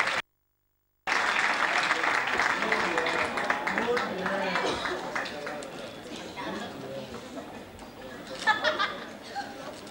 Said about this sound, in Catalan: un fort aplaudiment per despedir les xiques